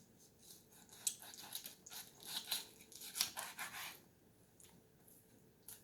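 Sharp chef knife slicing through raw chicken, producing a series of crisp, brief snipping and rubbing cuts in quick irregular bursts, close and fairly quiet, with no talking.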